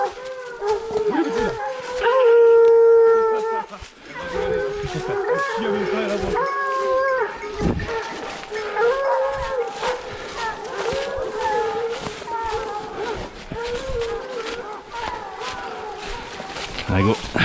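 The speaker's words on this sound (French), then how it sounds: "les chiens sont lâchés." A pack of hunting dogs howls and bays outdoors just after being let loose, with overlapping drawn-out howls and barks running steadily throughout. A person calls out to the dogs.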